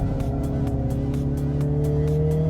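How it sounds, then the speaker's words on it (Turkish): A MINI JCW Countryman driven in sport mode on a race track, its engine holding a loud, steady droning note that rises gradually in pitch, heard close from inside the car with no talk. "otomobili şu an sport modunda kullanıyorum ve tahmin edeceğiniz gibi direksiyon, motor, şanzıman, süspansiyonlar, diferansiyel her şey olabilecek en sportif ayarda çalışıyor"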